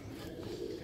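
Pigeons coo softly in a loft, a brief low murmur of cooing.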